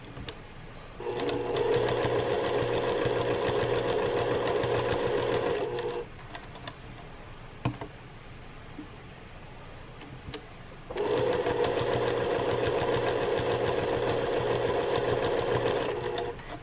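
A sewing machine stitches pieces of a cathedral windows pincushion in two steady, loud runs of about five seconds each, separated by a quieter pause while the needle stays down and the fabric is turned.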